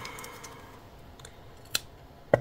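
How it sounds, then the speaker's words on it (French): Scissors snip through yarn while a Christmas embroidery-hoop decoration is made, giving two quick, close, sharp cuts against a quiet background. "Mes ciseaux."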